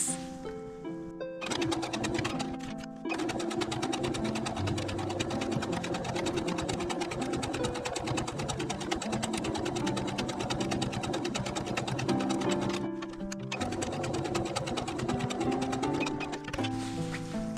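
Sewing machine stitching a small bag, running in fast continuous bursts of rapid needle clatter with brief pauses between seams, close and steady, no talking.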